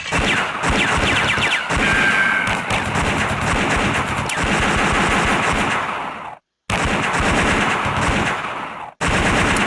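Rapid gunfire in a Xiao Xiao stick-figure flash game, dense loud bursts of repeated shots and impacts rattling continuously, broken by two abrupt brief silences.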